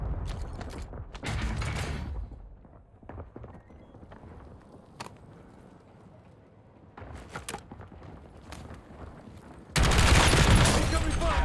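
Kilo 141 rifle fire in Call of Duty Warzone comes in dense rapid bursts, loud and close at the start and again near the end, with quieter scattered shots and mechanical clicks in between.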